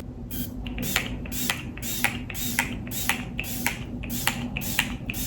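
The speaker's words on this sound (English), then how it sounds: "For setting spray, I have been loving the NYX Face Glue setting spray." NYX Face Glue setting spray misted in a rapid series of short, sharp hissing pumps, about a dozen quick bursts in an uneven rhythm, close and fairly loud.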